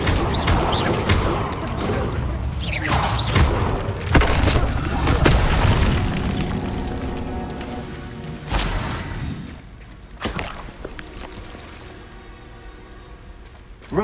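In Hogwarts Legacy an Incendio fire spell goes off in a dense burst of booming, crackling fire and clattering impacts, loud at first and then thinning into scattered crackles and sparkles as it dies away.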